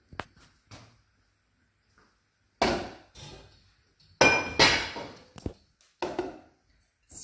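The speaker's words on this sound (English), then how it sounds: "Scrape off the plates with a knife so there's very no food left on the plate." A knife scrapes leftover food off dinner plates before loading a dishwasher, a close series of sharp ceramic scrapes and clinks in irregular bursts separated by quiet gaps.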